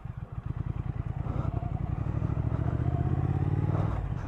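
A 2019 Triumph Thruxton R 1200 motorcycle engine runs close by with a pulsing, throbbing rhythm, revving up and growing louder before settling into a steady idle.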